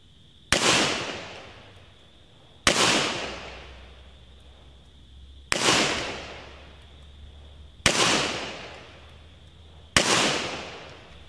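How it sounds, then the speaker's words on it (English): Five loud shots from a Ruger SP101 revolver firing .38 Special rounds double action, each a sharp crack with a ringing decay, spaced about two seconds apart with no talk. "Now I'm going to do 10 rounds, double action, 38 special"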